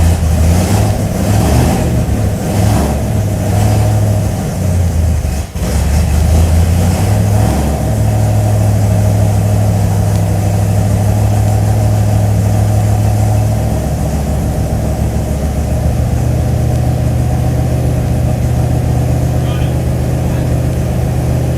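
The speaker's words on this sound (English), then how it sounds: "fire it back up. It's just an amazing sound this car makes." A supercar engine fires up loud and close, revving in rapid pulses before dropping into a steady, throaty idle with low droning tones, while someone talks over it.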